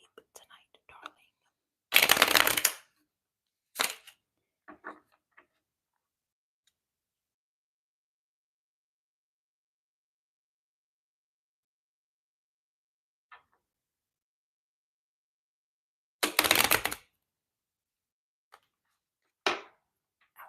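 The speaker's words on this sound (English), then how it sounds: "I like shuffling the cards more than anything else, so let me get close to the mic." Tarot cards shuffled close to the microphone in a quiet ASMR setting make short, crisp riffling bursts separated by long near-silent gaps, with a couple of faint taps and soft whispery sounds.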